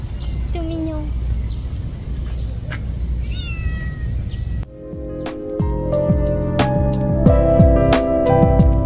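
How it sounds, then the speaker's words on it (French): A small cat gives several short, high meows on a street in Busan, South Korea, over a low rumble. Loud, steady tonal chimes and hum then take over, like a train or station announcement tone. "Tiens, il y a un petit chat,"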